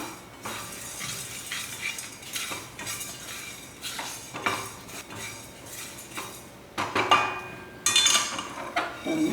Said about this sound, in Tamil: இது எல்லாமே நம்ம வந்து என்ன பண்ணோம் நல்லா ட்ரை ரோஸ்ட் பண்ணிடணும்